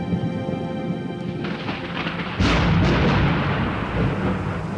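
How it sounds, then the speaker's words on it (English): Thunder rumbles from an approaching March storm in Sri Lanka, a broad low roll that swells suddenly midway and stays loud, with rain-like hiss underneath and no voices. "Storms are unusual in March."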